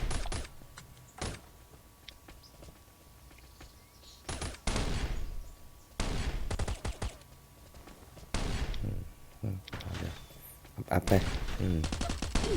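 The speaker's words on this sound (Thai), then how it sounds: "เอ้ายิงจากไหนวะเนี่ย" Gunfire in the survival video game Last Island of Survival: several sharp bursts of rapid automatic shots and single cracks in clusters, loud and near, separated by quieter gaps with someone talking.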